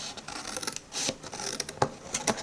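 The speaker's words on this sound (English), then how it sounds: "then I cut just a wedge off like that, and then cut a wedge off" Scissors cut a wedge from a greeting card for a box in a card-making project, giving several soft, quick snips and rubs at close range, fairly quiet, with no talking.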